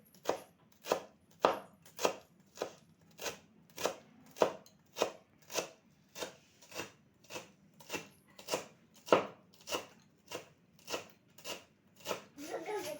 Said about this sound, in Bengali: এবারে ধনে পাতাটা কেটে নেব ধনে পাতাটা একদম কুচিয়ে নিতে হবে